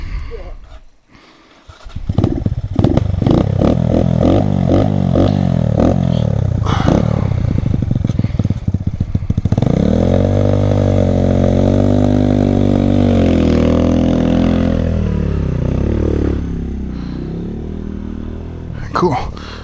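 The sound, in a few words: dirt bike motorcycle engine riding on Rampart Range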